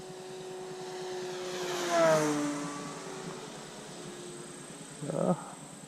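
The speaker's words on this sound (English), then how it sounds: "Low pass from the left. The big P-47." An RC model P-47 warbird passes low from the left, its engine swelling to a peak near the middle then fading away, with a brief louder burst of noise near the end.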